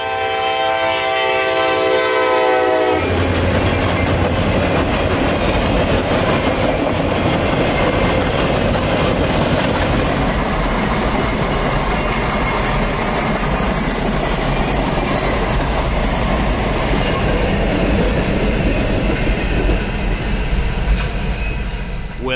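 A U.S. Sugar Railroad train of empty sugarcane cars led by a single locomotive rolls past loudly and continuously, with a dense rumble and wheel noise filling the scene after a brief tonal horn-like sound at the start.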